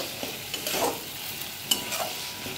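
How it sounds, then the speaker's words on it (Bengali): Ginger, cumin and everyday spice masala fry and sizzle in a pan for a potato and pointed gourd curry, with a spoon scraping and stirring through the steady hiss in close, short strokes. "এবারে মশলাটা কষাতে থাকবে।"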